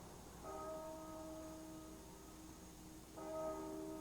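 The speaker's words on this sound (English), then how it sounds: "The bell." A church bell rings two separate strokes a few seconds apart, each a clear tone that hangs and fades slowly over a quiet background with no talking.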